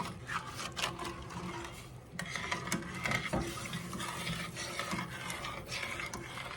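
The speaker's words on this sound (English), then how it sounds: "Try to scratch some of that off the bottom real quick here" A utensil scrapes and stirs along the bottom of a pot of bacon cheeseburger potato soup, a continuous close gritty rubbing with repeated strokes and no talk.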